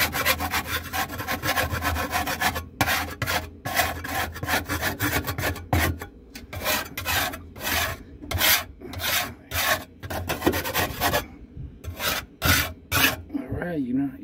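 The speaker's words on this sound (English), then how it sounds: "So you're gonna take your dough scraper." A dough scraper scrapes the ceramic brick floor of a wood-fired pizza oven in repeated close, rasping strokes that run steadily, then break into short, evenly spaced passes with brief pauses between them. No one speaks.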